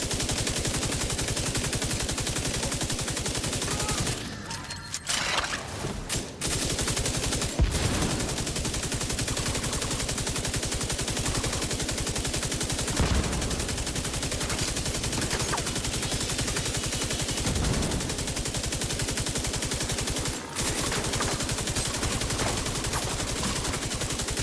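Sustained automatic machine-gun fire from a 225-round magazine in a video game, loud, dense and nearly unbroken for the whole stretch, with only a few brief pauses and no talk.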